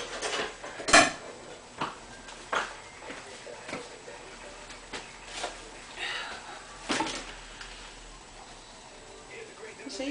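A regular knife cutting through a block of rebatched castor oil soap, with scattered dull thunks and scraping taps, one sharp knock near the start, close up, with a person speaking between the cuts.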